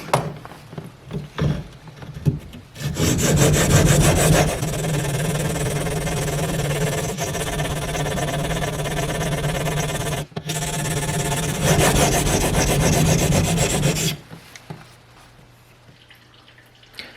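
A woodworking chisel is rubbed across a 240 grit ceramic sharpening stone, giving a close, continuous gritty scraping for about eleven seconds with a brief pause midway, framed by quieter handling noises.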